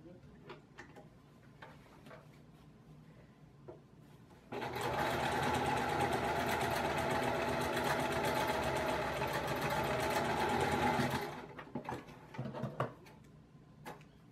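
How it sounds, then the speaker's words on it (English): A sewing machine stitches a Christmas stocking liner shut, running in one steady, fast whirring burst for about seven seconds, framed by quiet handling clicks and fabric shuffling before and after. "We're just going to line it up, sew it shut."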